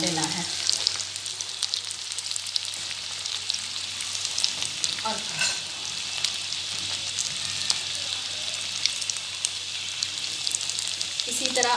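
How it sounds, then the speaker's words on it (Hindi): Potato cutlets frying in a pan, giving a steady, dense crackling sizzle that holds throughout at moderate volume, with a brief spoken word partway through. "अब ये देखें, हमारे कटलस आहिस्ता आहिस्ता ब्राउन होना शुरू हो गए हैं।"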